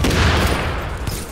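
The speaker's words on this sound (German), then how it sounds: "Lass eine Granate dahin werfen." Grenade explosion in The Division video game: a loud, sudden low boom with a rumbling, crackling blast tail that fills the short moment.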